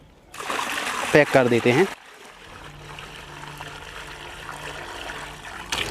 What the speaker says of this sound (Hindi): और मिक्स करने से पहले हम थोड़ा सा और भर लेते हैं पानी को।